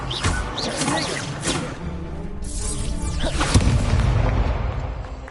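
Incendio fire spell cast in Hogwarts Legacy, a loud whooshing blast with booming, crackling bursts and rumbling low end, layered with other game sounds.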